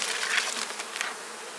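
Honey bees buzz in a dense, continuous swarm drone around an open, heavily nectar-filled beehive colony with mostly drawn comb, close and loud with no talking.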